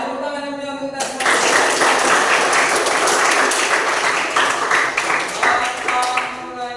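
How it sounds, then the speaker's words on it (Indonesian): Group applause from a gathered crowd at a training session, loud and sustained with dense clapping that starts abruptly and carries on evenly to the end. "Ayo tepuk tangan yang mulia untuk kita semua."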